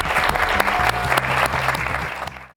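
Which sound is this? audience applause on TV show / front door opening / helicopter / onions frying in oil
audience applause on TV show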